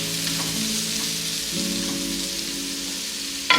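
Fresh tomatoes sizzle and fry in a pan with a steady crackle, while occasional stirring scrapes come through. A sharper clatter sounds at the end, close and fairly loud, with no voices.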